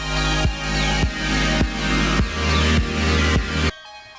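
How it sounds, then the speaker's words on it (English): A bright, dense Synthstrom Deluge synthesizer tone pulses in steady repeated chords with low bass hits on each beat, then cuts off abruptly near the end. "So we can hear that synth."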